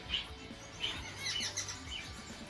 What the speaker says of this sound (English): You can hear the male out there singing right now.